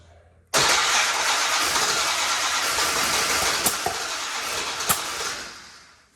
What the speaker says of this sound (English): She's backfiring a little bit too.